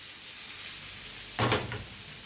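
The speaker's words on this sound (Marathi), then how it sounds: "ह्याला दोन्ही बाजूने छान असं फ्राय करून घेऊया" Malvani-style fish frying in oil in a pan, a steady soft sizzle with a brief louder burst of crackling midway, close and without talk.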